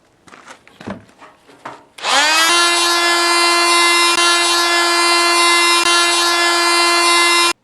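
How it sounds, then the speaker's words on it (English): A power sander starts on a redwood mailbox after a few quiet knocks and handling sounds, then whines at a steady, loud, high pitch for several seconds and stops abruptly, with no voices. "I'm going to try to sand this smooth"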